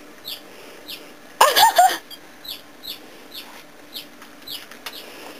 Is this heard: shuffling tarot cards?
no